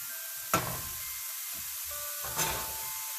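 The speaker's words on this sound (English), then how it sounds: "we want onion to completely get sauteed" Chopped onions sizzle softly in a covered pan while being sautéed for paneer bhurji, a faint steady frying hiss broken by two brief louder crackling bursts, no voices.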